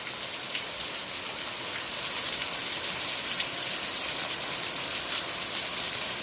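Heavy rain pours down steadily near a lit electric pole during a downpour in the Maan taluka area, a dense, even hiss of drops hitting surfaces with no pauses throughout.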